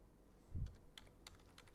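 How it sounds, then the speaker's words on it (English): Someone types on a computer keyboard into a word processor: a handful of faint, sparse key clicks in a quiet room, with one soft low thump among them. "Now, let us start typing something."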